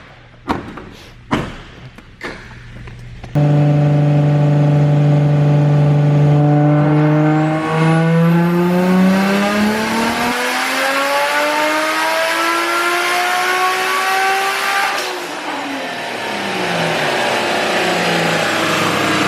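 A few thumps and clunks, then a Nissan Skyline's engine roars to life and revs hard on a dyno in a long, rising pull, close and loud, easing off near the end.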